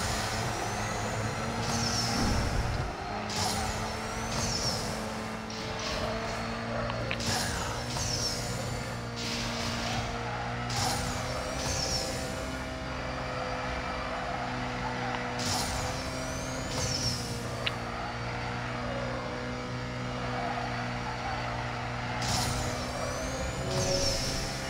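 A Ford GT500 races in the mobile game Need for Speed No Limits, its engine note droning steadily under a layer of game music, with repeated whooshes and shifts across the run.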